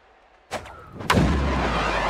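Bat crack and crowd in Super Mega Baseball 4: a sharp pop at about half a second, then a second louder crack followed by a sustained, swelling roar of stadium crowd noise.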